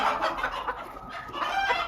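A Habesh ornamental chicken clucks and murmurs in steady, overlapping bursts, close by, with other fowl faintly audible around it in a crowded coop and no talking.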